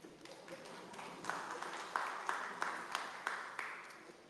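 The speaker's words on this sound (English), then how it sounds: "Let's give a round of applause, please." People at a community housing workshop give faint, thin applause, a few evenly spaced claps standing out above a soft wash of clapping in a quiet room.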